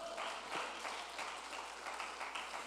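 Steady applause from a church congregation, continuous clapping filling the space at moderate loudness without voices.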